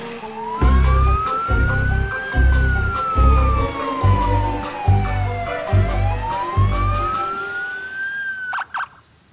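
A cartoon police car siren wails, sweeping up and down in pitch over a loud, rhythmic thumping beat in a children's animated show, and ends with a few short clicks.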